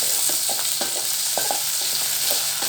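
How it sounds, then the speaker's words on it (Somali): Meat sizzles steadily in a pan as a sauce for pasta is prepared, with repeated scraping clicks as it is stirred, heard up close with no voices. "hilibkii aan noo shiilmay"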